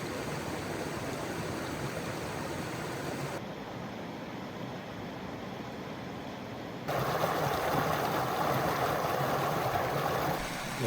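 Mountain stream flowing by Upper Slide Lake in the Zirkel Wilderness, a soft, steady rushing and gurgling of water heard from nearby, dipping briefly quieter midway before swelling a bit louder toward the end.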